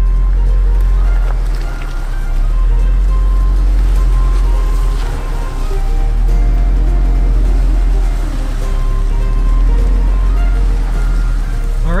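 A new Range Rover Sport climbs an off-road slope with a loud, continuous low engine and tyre rumble. The sound is close and steady for the whole stretch, with only slight surges.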